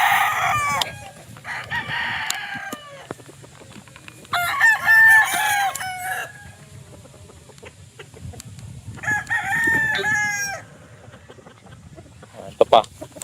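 A ten-month-old Golden Boy gamefowl stag crows loudly at a game farm, several separate crows close by with clucking and other fowl calling between them.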